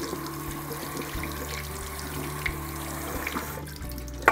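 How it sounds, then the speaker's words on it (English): Dry beans being rinsed under a running kitchen tap, a steady near splash of water into a sink with small clatters and a shift in the flow near the end, no talking. "It's also important to give the beans a really good rinse."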